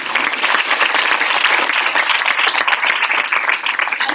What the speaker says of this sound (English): let's give a big round of applause for all of these promotions